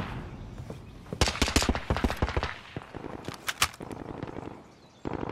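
Warzone gunfire: a flurry of sharp, irregular shots and bursts, some close and loud, others quicker and scattered, over a noisy in-game background.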